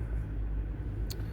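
A Ford Focus Mk2 car engine runs at idle, giving a steady, low rumble that carries through the whole short stretch with no voices.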